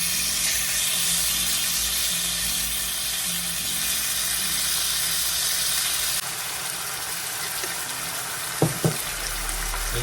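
Tofu sizzles in a marinade sauce in a pan over medium heat, a steady, loud hiss that eases a little partway through, with a couple of brief knocks near the end and no talking.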